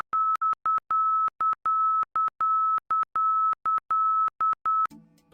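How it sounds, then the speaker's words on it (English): ILS marker beacon tone from an aircraft receiver, a steady high-pitched audio tone keyed in a fast run of alternating Morse dots and dashes, clean and loud, ending abruptly. "This marker's audio signal is a series of alternating Morse code dots and dashes at a high"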